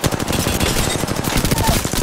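Rapid automatic gunfire in a video game shooter: a loud, dense burst of shots in fast succession that fills the whole stretch without a break, heard alone.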